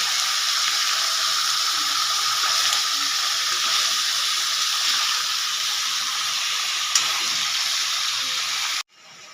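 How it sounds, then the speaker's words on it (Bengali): Chicken sizzles and fries steadily in a hot pan for chicken kosha, a bright continuous hiss and crackle heard up close that cuts off abruptly at the end. "এবার এটাকে ভালো করে কষাবো"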